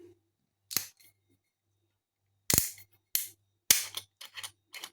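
Screw cap being twisted off a cheap Pinot Grigio white wine bottle: a few short, sharp clicking cracks, close and fairly quiet, with a cluster of quick snaps near the end and silence between.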